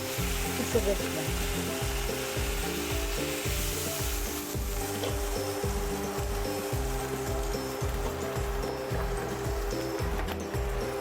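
Steady, dense sizzling of venison meat rolls frying golden in a pan, continuous and close, with faint scraping or stirring touches and a low rhythmic hum underneath.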